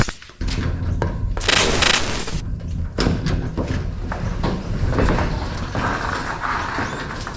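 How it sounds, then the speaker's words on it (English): A door in a garage housing a turbo Ecotec V6 car is pulled open with a loud rattling scrape and clunks, followed by shuffling, bumps and movement noise close by. "I get this door open"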